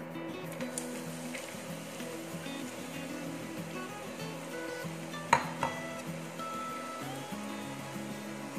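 Chopped onions drop into hot oil in a pan for a chicken cutlet recipe, giving a continuous close sizzle with a clink of utensil and stirring partway through.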